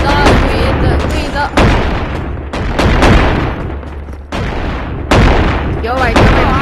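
Shotgun blasts in the video game Animal Company: loud, booming shots fired in an uneven series about a second apart, each with a sharp onset and a rumbling tail, close and dominant over faint voices.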